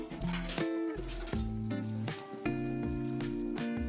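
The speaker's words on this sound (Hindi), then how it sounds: "यहाँ पे हमने इसको इसलिए हाई फ्लेम पे हमने इसको थोड़ा सा करना है, भूनना है" Tomatoes, ginger and green chillies for mutton karahi fry on a high flame, with a close, continuous sizzle and bubbling under steady, busy spattering.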